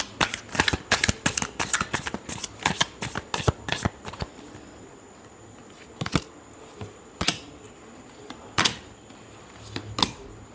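Tarot cards are shuffled by hand in quick, crisp riffling bursts close by, thinning out into sparse, separate flicks and taps.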